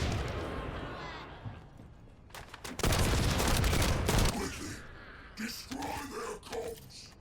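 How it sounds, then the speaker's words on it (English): Sniper rifle fire in the video game The First Descendant during a raid on a communication center: a few sharp, heavy shot bursts with a dense loud stretch in the middle, mixed with game ambience and low voices. "I use my sniper rifle."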